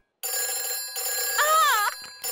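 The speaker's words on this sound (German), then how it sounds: "Ui, ein Telefon." An electronic fire phone rings in a cartoon, a steady trilling ring that starts abruptly and continues with a short gap, close and clear, while a voice speaks briefly over it.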